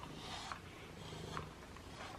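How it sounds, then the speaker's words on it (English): Domestic cat Simba, a formerly feral cat, purring steadily while being brushed, a soft continuous low rumble close by with faint background noise. "He's purring away."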